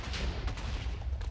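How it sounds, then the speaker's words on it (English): A continuous barrage of booming explosions in a Minecraft modpack (Modsauce 2) rumbles loud and close, with rapid overlapping blasts and no pause throughout. "I think that once the explosions are all done"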